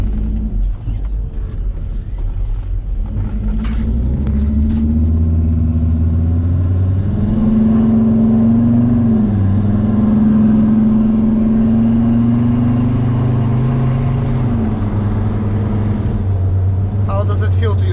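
A Mercedes T1N Sprinter van with a new turbo and actuator drives along the road, its steady mid-pitched engine drone rising and falling gently as it pulls, loud and close from inside the cab.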